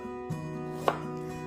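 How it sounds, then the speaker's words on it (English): A knife dices Thai chili into small cubes on a cutting board, with two distinct close chops, one soft and one sharper, over a quiet steady background hum. "cut into a small cubes to kind of match the shape of the meat"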